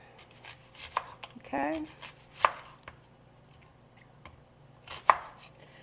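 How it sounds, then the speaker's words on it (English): A knife chopping a white onion on a cutting board, sharp, close, separate thuds spaced a second or more apart with soft rubbing between, and a brief spoken word. "I'm gonna chop up me some lovely onions"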